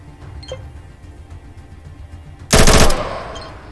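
An automatic firearm in the video game ATOM RPG fires a short loud burst of several rapid shots, ringing out after a quiet, faintly clicking lull.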